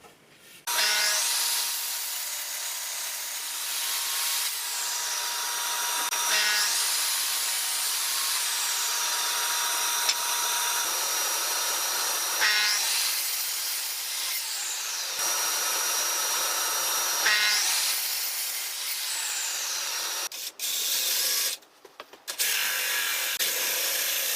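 Steady wood sawing or cutting with a power tool, a continuous rasping whine running for long stretches with brief pauses and rising pitch changes.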